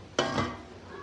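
A lid set down over a pot of potatoes and eggs boiling together on a home kitchen stove, one sharp metallic clatter with a short ringing tail, close and alone.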